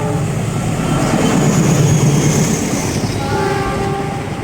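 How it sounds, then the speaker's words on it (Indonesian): A long container freight train rumbles past close by, loud and steady, with a dense roar of wheels and cars throughout and a tonal horn-like hum rising near the end. "Ternyata kereta kontainer ya."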